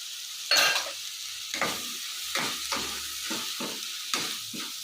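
Cluster beans frying with ginger garlic paste in a pan make a crisp sizzle broken by repeated stirring scrapes, about seven strokes at an uneven rhythm, close and clear with no voices.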